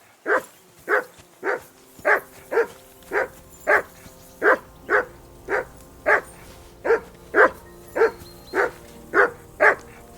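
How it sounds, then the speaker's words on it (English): A dog barks steadily in the video game Kingdom Come Deliverance II, about twenty evenly spaced, loud, close barks repeated without pause over ten seconds, with no talk. "Whistle at that mutt of yours to stop barking."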